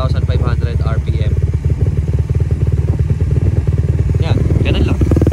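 Motorcycle engine fitted with a Salaya power pipe exhaust, idling and running steadily with a loud, lumpy, pulsing beat throughout; someone talks over it.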